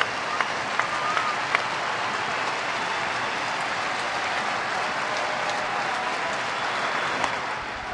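More than 37,000 fans at a Brewers home baseball game in Milwaukee cheer and clap in a loud, sustained roar that fills the ballpark, with a few sharper claps popping out of the steady wash.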